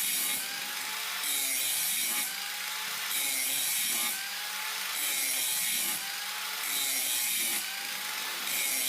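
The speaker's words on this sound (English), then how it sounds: "It's a good idea to grind one side of the wrench knife first." Steady grinding of a bevel onto one side of a wrench being shaped into a knife blade, a loud continuous abrasive whine that swells and eases in regular passes about once a second.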